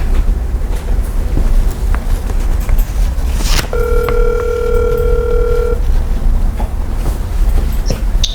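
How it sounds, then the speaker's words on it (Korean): Noisy line hiss, a sharp click, then a steady electronic telephone tone holds for about two seconds as a phone call connects, then cuts off, leaving the hiss. "먼저 서울특별시 노원구 어, 이경영 어, 어머니 기자 단장님을 전화로 연결해서 어, 지역 소식을 들어보도록 하죠."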